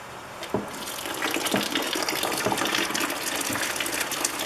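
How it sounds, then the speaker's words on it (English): Water gushes and splashes steadily as it is poured into a homemade mash tun of grain while brewing a Java porter, a continuous fairly close pour. "We're going to have to add some more water to it."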